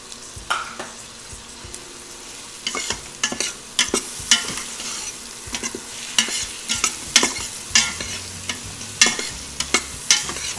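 Masale bhat ingredients being sautéed and stirred in a pot, with steady sizzling and repeated sharp scraping strokes of a spoon against the metal, close and fairly loud, no talking.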